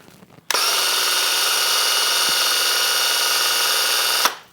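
A Graco TC Pro paint sprayer pump primes with paint, starting abruptly and running as a loud, steady high-pitched motor whine for about four seconds before cutting off.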